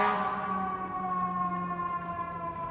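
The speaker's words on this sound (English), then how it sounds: "I'll wait for these sirens." Sirens wail steadily on a street, a sustained tonal whine with layered harmonics that holds at a fairly even, loud level throughout, with no voices over it.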